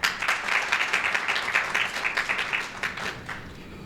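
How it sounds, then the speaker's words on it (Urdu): Audience at a poetry mushaira in Riyadh claps steadily to welcome the poets, a dense, even round of applause lasting throughout without talk. "ان سب کا آپ کی تالیوں سے بھرپور استقبال ہے۔"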